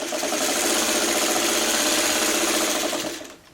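A sewing machine runs steadily for a few seconds, stitching quilt fabric pieces for a friendship star block, its even buzzing close and loud before stopping.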